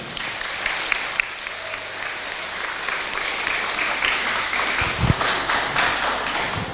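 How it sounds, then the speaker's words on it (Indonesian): Applause at a school welcome event in a hall, a moderate crowd clapping steadily with scattered louder claps and a thump partway through. "Tepuk tangan dong untuk kita semua."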